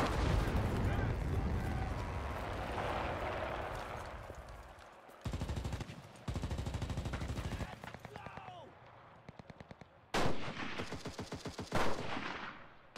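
Rapid gunfire from the World War II shooter Enlisted rattles in bursts, with dense automatic fire early and sharp repeated shots later, mixed with game noise and players talking.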